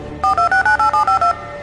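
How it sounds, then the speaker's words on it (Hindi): A telephone number is dialed: eight rapid, evenly spaced keypad tones beep in quick succession, clear and close, with no talk. "और तुरंत निर्मल को फोन किया।"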